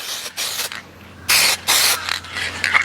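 A restorer coating is sprayed in short hissing bursts onto faded plastic cladding on a Chevy Avalanche truck, four or five close, fairly loud pulses separated by brief pauses.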